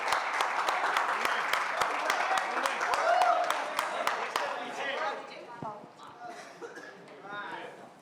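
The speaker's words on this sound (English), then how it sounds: "We can quadruple the round of applause." Audience applause at a trailer launch event for a streaming series, dense sharp clapping from a large crowd that stays loud, then thins and fades as voices start talking over it.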